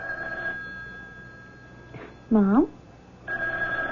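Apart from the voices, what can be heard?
telephone ringing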